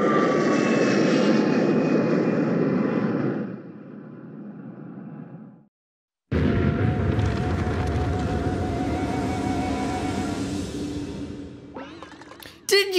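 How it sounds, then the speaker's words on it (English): A missile in Paper Mario Color Splash roars loudly through the air, fades, cuts to a brief silence, then a long rumbling blast follows and tails off. "Some kind of missile just landed in those faraway hills."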